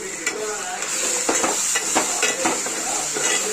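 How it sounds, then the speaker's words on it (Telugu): Onion and tomato with turmeric sizzle and fry in a pan for fish curry, a steady hiss with repeated scraping stir strokes at a close, even level. "పసుపు వేసి కొంచెం ఫ్రై చేసిన తర్వాత"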